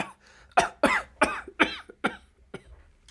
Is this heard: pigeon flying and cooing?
no